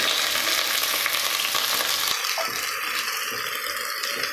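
Onion and potato fry in hot oil in a home kitchen, a loud continuous sizzle with stirring rattles that eases slightly partway through.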